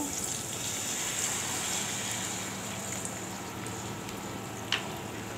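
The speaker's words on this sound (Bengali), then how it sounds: "একটু পানি দিব।" Water is poured into a cooking pan where cumin seeds are being tempered in oil, making a steady hissing gush with a sharp clink near the end.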